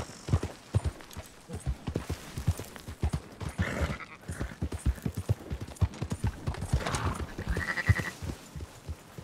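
Horse hooves clip-clop in steady rhythm in Red Dead Redemption 2 as the rider herds sheep and goats, with a couple of bleats rising over the close, even footfalls.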